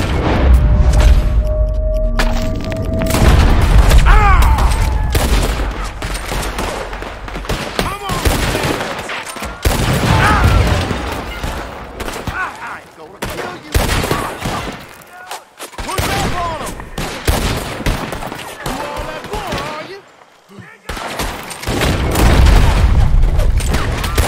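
Loud video-game gunfire from Red Dead Redemption 2 rings out as repeated sharp shots and booming volleys, with fast bursts running throughout. A voice comments over the shooting.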